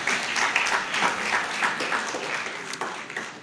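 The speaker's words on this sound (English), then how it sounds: "Let's give her a round of applause." An audience at a book review event applauds, a dense patter of many hands clapping steadily for a few seconds, gradually easing off.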